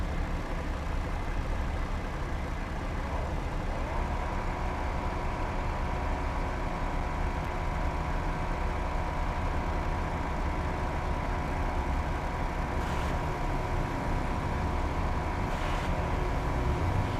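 A bus engine in the driving game Car Parking Multiplayer drones steadily and loudly throughout, a continuous low rumble with a faint rising whine partway through and no talk.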